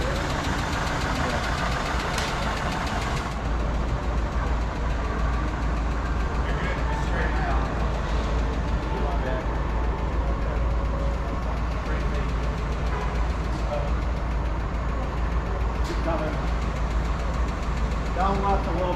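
A 1959 classic car engine idles steadily and close during move-in at a muscle car show, with a continuous low rumble and knocking rhythm as people talk nearby.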